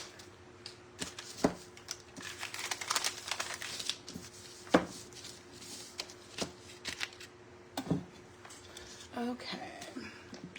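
Stickers stuck on a painted wooden shelf sign are handled and peeled, giving close, crisp crinkling and tearing bursts in an irregular rhythm, with a person talking quietly between them.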